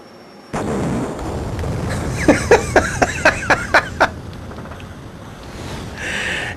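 Film effect of an explosion with fire and flame on a castle: a roaring blast rumbles throughout, with a quick series of sharp pops in the middle and a swelling roar near the end.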